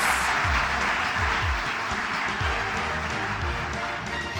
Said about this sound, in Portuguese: Uma salva de palmas para os nossos homenageados